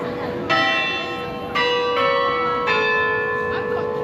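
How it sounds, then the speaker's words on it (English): A bell rings out in Hay Street Mall, three loud strikes about a second apart, each leaving a long, bright ringing tone that overlaps the next above a steady street murmur. "Oh, there goes the bell."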